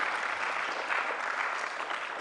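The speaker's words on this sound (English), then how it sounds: "Please, let's give them a round of applause." An audience at a choral concert by a university ensemble applauds, a dense, even roar of clapping that holds at a steady level from start to finish, with no speech over it.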